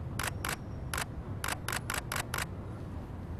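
A camera shutter firing at 1/1600th of a second at f/2.8 during a photo shoot, with eight crisp clicks in quick irregular bursts over a steady background hiss.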